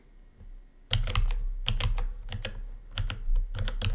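Loud clacking keystrokes from an expensive computer keyboard come in quick irregular bursts, close and crisp, starting after a near-silent first second.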